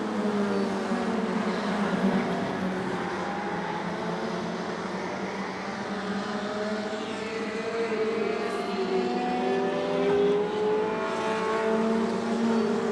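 Short track race cars roar around the track in a racing series event, several engines whining loud and continuous, their pitch sweeping up and down as they circle.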